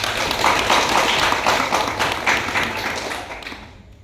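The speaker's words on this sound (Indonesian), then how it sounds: "Beri tepuk tangan dulu dong." Students in a classroom give a brief round of applause after a classmate reads a story aloud, a dense, fairly loud burst of clapping that fades away after about four seconds.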